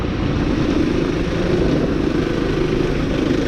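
A 2026 Kawasaki KLX300 dirt bike rides a wheelie on a trail, its engine a dense, continuous roar heard close up with constant loudness throughout.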